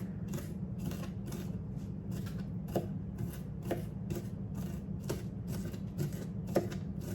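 A knife chops food on a cutting board during holiday meal prep, with a steady run of crisp, evenly spaced strikes over a constant low background hum.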